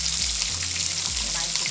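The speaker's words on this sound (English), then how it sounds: "Notice it's not really splashing, it's just nice sizzling because the oil is really hot." Steady, bright sizzling of fish frying Jamaican style in very hot oil in a pot, a continuous crackling hiss with low hum underneath.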